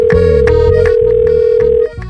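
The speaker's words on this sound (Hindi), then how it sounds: "अभी हम फोन लगाते हैं।" A telephone call being placed produces a loud, steady electronic phone tone that holds for almost two seconds and then cuts off, with busier muffled sound layered faintly beneath it.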